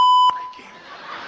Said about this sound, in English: Oh, the beep.